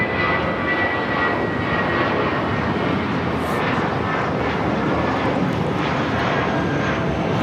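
A widebody airliner on flight 882 from Hong Kong lands on runway 24 right at LAX, a loud, steady, broadband engine roar heard close and unbroken with no talk.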